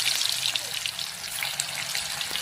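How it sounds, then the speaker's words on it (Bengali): Banana chips fry in hot refined oil with a soft, steady bubbling hiss, faint and close, with occasional small pops. "তো দেখো আমি কি করে ভাজছি।"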